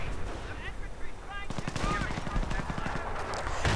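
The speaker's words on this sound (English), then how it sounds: "And more artillery landing on this spot." Artillery fire and gunfire in a World War II tank strategy game, a dense run of rapid shots and blasts at steady loudness, building into a sustained barrage after a brief quieter stretch, with a voice speaking over it.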